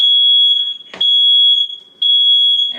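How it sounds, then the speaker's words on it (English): A heat-sensitive apartment smoke detector, set off by opening the oven, shrieks in a loud, piercing tone that runs steadily and is broken by two brief gaps with clattering sounds before the tone resumes. "Smoke detector is heat sensitive, not smoke sensitive. So it always goes off when we open the oven"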